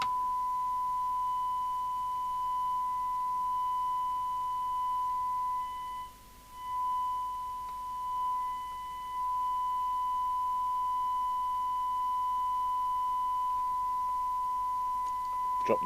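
A steady continuous test-signal tone from a Jesan KR200 CB27/81 UK FM CB radio being retuned and tested, holding an even pitch with a faint background hiss and one brief dip partway through.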